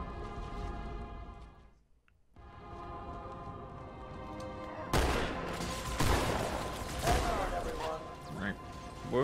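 Turret gunfire in the video game Halo 2 Anniversary on Xbox One breaks out as a dense, sustained burst of rapid shots over the game's music and ambient noise, with a voice talking faintly beneath.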